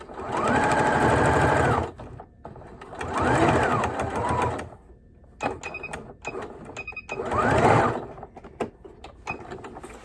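Sewing machine stitching a purse made from dollar store placemats, running in three loud buzzing bursts separated by pauses filled with clicks and handling of the fabric.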